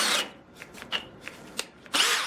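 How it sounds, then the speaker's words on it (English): A 12V hammer drill with a 1/2-inch Dewalt bit bores into a pressure treated post, on drill mode at high speed. A loud burst opens, a few short grinding bites follow, then the drill roars again near the end. "We're going to drill 4 holes in this pressure treated post and see who can do it the fastest"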